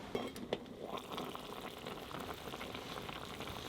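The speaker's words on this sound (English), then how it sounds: "let's add a bit of Guinness to this stew." Guinness goes into a stew bubbling over a woodstove in a tent in early winter, a couple of soft splashes at first, then a steady close simmering and faint sizzle.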